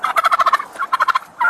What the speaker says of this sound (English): Except for I'm getting attacked by a chicken right now.